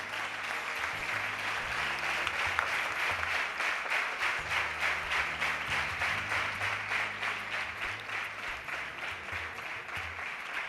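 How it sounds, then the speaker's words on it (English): An audience at a space week prize ceremony claps steadily for an award winner, a dense even applause that holds for the full length with a slight pulsing rhythm. "Please give her a big round of applause."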